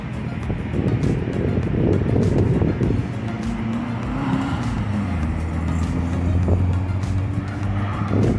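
Volkswagen Kombi vans race at the King Kombi event in Barra Bonita, 2022, their engines roaring loudly as they accelerate past, with pitch rising and sliding through several sustained revving tones over constant track noise and wind.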